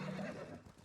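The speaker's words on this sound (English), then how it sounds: "I guess I'll have to name this horse." A horse in the video game Ghost of Tsushima gives one brief, close whinny that rises and then fades within a second, with no speech over it.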